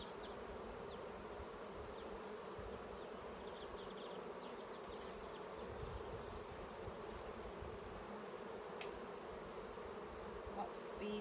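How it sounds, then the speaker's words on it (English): Honeybees buzz in a dense, steady hum while an open beehive is inspected, holding at a moderate level throughout with no talk. "Lots of bees."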